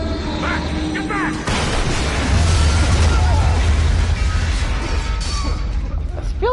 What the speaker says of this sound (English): I feel like they should have heard the explosion